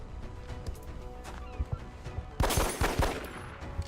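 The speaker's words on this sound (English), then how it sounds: "we can take the pistol shot at least" Gunfire from a pistol shot in XCOM Long War, a sharp burst of loud impacts near the end following softer game clatter and thumps, with no speech over it.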